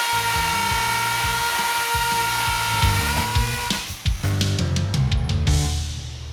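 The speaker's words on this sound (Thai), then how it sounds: "จะใช้ดอกเจาะปูนขนาด 8 มิลลิเมตรนะครับ โดยตัวที่ทดลองเนี่ยจะใช้ตัวสว่านกระแทกนะ" A cordless Bosch GSB 18V-150 C impact drill with an 8 mm masonry bit whines and hammers steadily with a rapid rattling pulse, then grinds and shifts pitch as it bites into concrete.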